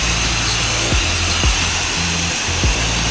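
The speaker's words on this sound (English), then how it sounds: "Using the M5 twist nozzle, rinse this fence down." A pressure washer with an M5 twist nozzle rinses a fence, giving a loud, continuous rushing spray with a motor drone underneath and a few brief pitch dips.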